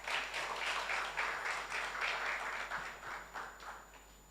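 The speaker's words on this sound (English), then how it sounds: "One more time, a hand of applause." An audience applauds at a US-Tanzania tech challenge event, a dense burst of many hands clapping that fades slightly toward the end, with no voices over it.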